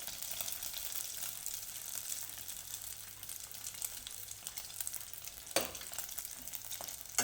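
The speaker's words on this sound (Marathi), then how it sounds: "हे व्यवस्थित तांबूस रंगावर येईपर्यंत तळून घ्यायचे हे तेलात टाकले की थोड्या वेळानं वर येतात" Fasting-style dahi vada deep-fry in hot oil with a dense, bright, continuous sizzle and bubbling, close and steady, with one brief clunk near the end.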